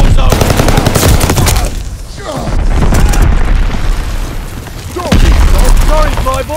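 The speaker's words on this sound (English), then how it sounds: "Ally mortar inbound." Allied mortar strike explosions in the game Call of Duty Vanguard, heavy booming blasts with gunfire crackle filling the scene loudly and continuously, a sharp fresh impact near the end, with voices talking among the battle noise.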